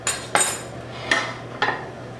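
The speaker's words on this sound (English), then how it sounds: "So now I'll just slice a little piece." A knife slicing boneless chuck roast on a plate, producing four sharp clinks and scrapes spaced irregularly, close and fairly loud against a faint hum.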